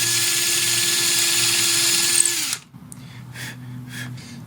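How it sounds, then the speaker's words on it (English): A power drill bores out a bug hole in a walnut slab being made into a coffee table, a steady high whine that winds down and stops, followed by faint handling noises. "I'm going to drill out."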